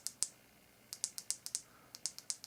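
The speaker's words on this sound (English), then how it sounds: "nice clicky buttons here" Clicky buttons on a vape mod pressed in quick bursts of crisp, faint clicks, a few separate presses followed by fast runs, close up and with no talk.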